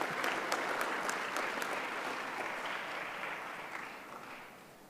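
Sustained applause from an audience at a disability technology launch event, a steady dense patter of clapping that fades slightly toward the end.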